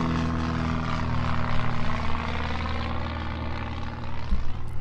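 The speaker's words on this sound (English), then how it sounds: "hold on, there's a plane." A propeller airplane drones overhead, its engine hum loud and steady with a slight pulsing beat as it passes, heard alone without talk.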